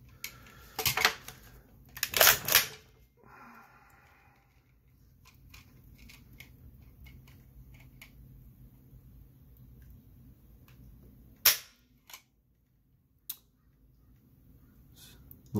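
Dry-fire trigger pulls on a CZ Scorpion Evo3 S1 fitted with HBI springs, measured with a trigger pull gauge: a few sharp mechanical clicks and snaps, a cluster early and two more later, close and isolated against a quiet room.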